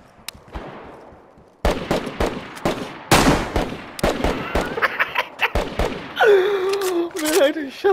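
Video game gunfire in a roleplay match: loud, sharp shots in irregular bursts, some rapid like automatic fire, over a busy game soundscape with occasional voices.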